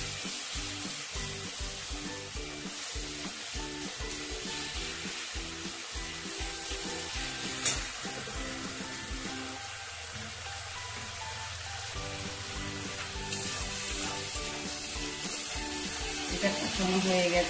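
Ground coriander and cumin with a splash of water cook down in a pan for a vegetarian Navratan curry, giving a steady close sizzle with rhythmic stirring taps and scrapes that ease off briefly midway.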